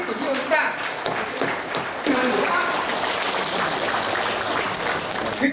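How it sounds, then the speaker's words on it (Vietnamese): Applause breaks out among attendees at a Vietnam–Laos friendship association's New Year gathering in Kiến Thụy district, steady dense clapping that swells after a moment and continues throughout. "tôi đề nghị chúng ta cho một tràng pháo tay để chúc mừng thành tích của chi hội chúng ta"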